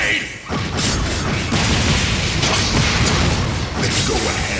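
A grenade attack in the video game Trails Beyond the Horizon erupts in a sustained, loud, noisy blast of booming and crashing debris that rolls on for several seconds with no clear pause.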